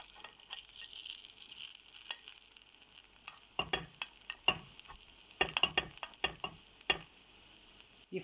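Paniyaram dumplings fry in a paniyaram pan with a faint, steady sizzle. Light clicks and taps sound as they are turned over one by one, and no voices are heard.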